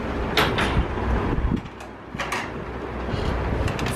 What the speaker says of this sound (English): You wanna open the door?